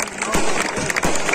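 A crowd at a Ravan dahan event in Rohtak applauds in a dense, steady wash of clapping, fairly loud and close, with voices mixed in.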